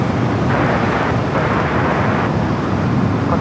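An Airbus A380 departing LAX roars loudly and steadily throughout, a broad continuous jet rumble with no pauses or voices.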